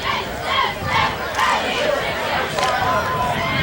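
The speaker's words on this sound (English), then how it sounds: "Woodbury cheerleaders trying to get the crowd into it a little bit" Cheerleaders chant to rouse spectators at a 1998 Group 1 quarterfinal high school football game, their rhythmic shouted calls rising from a steady, loud crowd roar in the stands.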